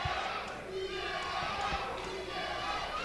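Pro wrestling crowd at a PowerBomb Wrestling show cheering steadily after a ten count, a dense roar with rhythmic chanting swells and stomps, heard under indistinct voices.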